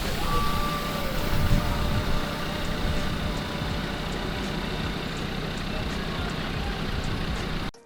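A Mark 3 Audi TT pulls in at a car meet, its engine a steady low hum under faint background voices.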